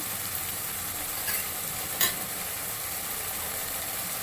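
Onion, green chilli and tomato fry in oil in a pan, a soft continuous sizzle with a brief clink or scrape of utensils partway through, no voices.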